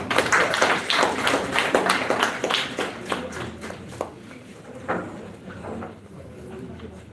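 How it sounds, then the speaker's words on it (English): Scattered applause from a small audience, close and fairly light, starts briskly and thins out into a few sparse claps toward the end. "So a round of applause for me."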